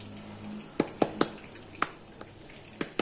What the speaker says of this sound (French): Je vais le taper dans mes mains comme ça.